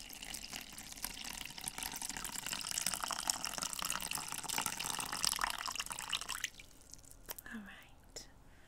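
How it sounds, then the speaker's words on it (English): Water streams steadily from a sink tap for a hair wash during a haircut role play, a soft continuous rush that cuts off near the end, with quiet speech alongside. "I'm going to get the water turned down just to make sure it's the right temperature"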